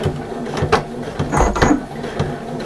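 A sewing machine stitches the bottom seam of a fabric bag, a close mechanical whirr with rhythmic needle thumps and brief pauses over a few seconds.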